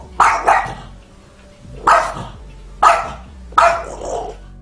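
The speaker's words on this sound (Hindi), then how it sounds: "ये कुत्ता बड़े गुस्से में इस बिल्ली पर भौंक रहा था" A dog barks sharply four times at a cat in the dark, at spaced intervals, loud and close, with an aggressive edge to each bark.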